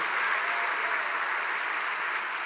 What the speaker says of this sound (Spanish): denle un aplauso al Rey que vive